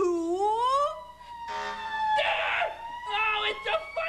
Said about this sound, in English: Oh, it's a fire engine, I knew it.